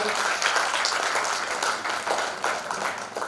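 An audience at an International Women's Day award ceremony gives steady, dense applause that fills the hall, with some speech mixed in underneath.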